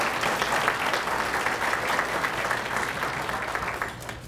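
Audience applause at a business community event, a steady dense wash of many hands clapping throughout that thins slightly toward the end.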